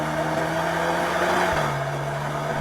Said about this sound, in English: Even the engine sounds a bit fruity, like a 5-cylinder, even though it's a 4-cylinder.